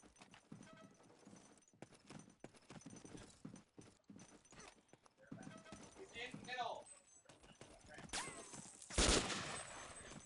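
Gunfire in a competitive shooter match, scattered sharp shots and short bursts throughout, with a louder blast near the end, heard beneath continuous excited commentary.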